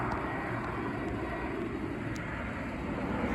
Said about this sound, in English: That's an Embraer 175. American Airlines.